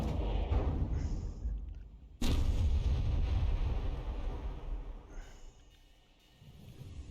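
Missiles fired by a tank in the vehicle-combat game From The Depths end in a sudden loud blast about two seconds in, which fades into a long rumbling tail, with fainter whooshes and rumble before and after.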